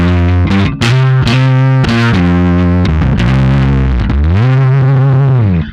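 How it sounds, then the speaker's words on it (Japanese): A bass guitar played through a JACKAL MIDNIGHT fuzz-style distortion pedal on its own, loud and saturated, with sustained buzzing notes and slides in a short riff. "なんかエフェクターの歪みって感じだ。"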